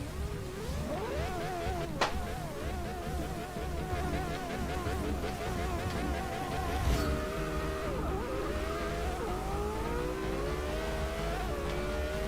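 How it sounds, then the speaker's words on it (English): A high-pitched race car engine in Forza Motorsport 6 revs continuously, rising and falling through gear changes, with a sharp click near the start; loud and close throughout. "this car sounds very much like the 19 Spider, just higher pitch."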